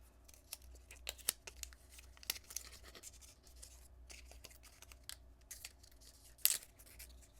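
Packaging for an Apple Watch Ultra 2 in gunmetal titanium is carefully peeled and torn open, with faint scattered crinkles, scratches and small sharp rips in a quiet room, no voices.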